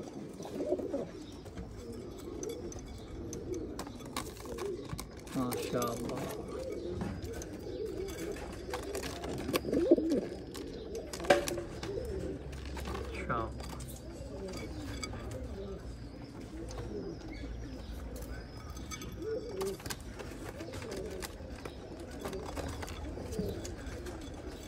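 Pigeons cooing in a pigeon loft, soft repeated low coos and rustling at moderate distance, with people talking quietly over them.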